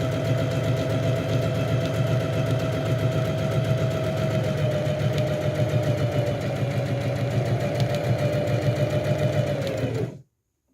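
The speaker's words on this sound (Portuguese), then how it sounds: "posicione o tecido na máquina, abaixe a sapatilha de maneira que a lateral da sapatilha fique alinhada com a primeira costura e costure até o final do tecido" A sewing machine stitches a length of fabric with the presser foot aligned along the first seam, running steadily and loudly at close range for about ten seconds before stopping abruptly.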